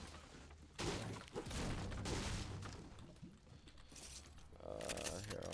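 A turret fires in a video game, sustained loud rattling bursts of gunfire with booming impacts that continue almost without a break, with no talk over them.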